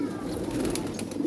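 Pigeons coo softly in a loft at feeding time, a low continuous rolling murmur close by with a faint flutter, and no one talks.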